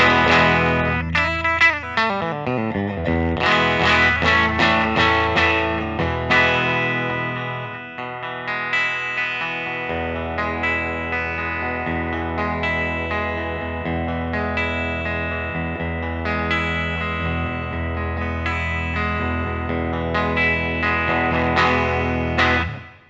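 A 1997 Gibson Les Paul Junior electric guitar, its single pickup driven through distortion and chorus effects, picked near the bridge in bright, sustained chords and single notes, loud and continuous with no talking.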